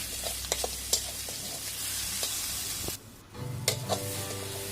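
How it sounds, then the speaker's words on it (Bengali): Ground spices, cumin powder, turmeric and salt frying in a pan for an egg dish, a close, steady sizzle with intermittent spoon scrapes and taps, briefly dipping quieter before the frying hiss returns. "সবগুলো দিয়ে আমি মশলাটাকে কষিয়ে নেব"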